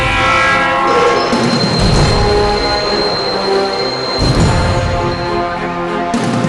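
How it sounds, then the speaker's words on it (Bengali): A train pulls in with a long, sustained horn blast over rumbling wheels and rail clatter, loud and close for the whole stretch. "বস বস, ট্রেন এসে গেছে।"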